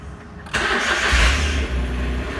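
A Smart Fortwo engine cranks and catches after an oil change, a quiet hum giving way to a sudden start, a brief low surge, then settling into a steady idle.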